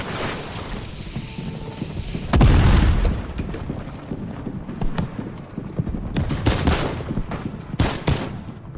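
Grenades thrown into a barn in a World War II–themed Fortnite battle erupt in heavy booming blasts amid scattered gunfire, with a big explosion early and further bursts following.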